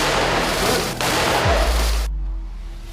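A loud, rapid burst of gunfire rattles for about two seconds during a police commando raid drill, then stops abruptly, leaving a low hum.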